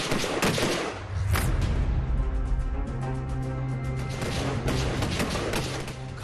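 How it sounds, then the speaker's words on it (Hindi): Bursts of gunfire from security forces in a Kashmir valley clash, sharp repeated reports over a dense, loud rumbling background, with heavier volleys at the start, around one second and again near the end. "घाटी में सुरक्षा बलों की गरजती गोलियां"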